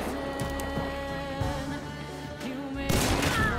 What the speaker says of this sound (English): Oh, beautiful wallbang headshot.